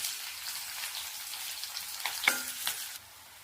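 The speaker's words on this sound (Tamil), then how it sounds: "வெங்காயம் நல்லா வதங்கிடுச்சுங்க." Onions with cumin and curry leaves sautéing in a pan, a steady crackling sizzle with a couple of sharp spatula scrapes near the end before the sound drops away, close and quiet, no talking.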